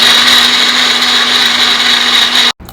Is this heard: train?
no